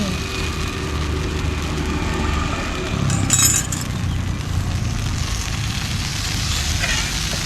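Steady broadband sizzling hiss of Thai coconut pancake batter frying in a hot dimpled khanom krok pan, continuous throughout, with a brief metallic clink midway.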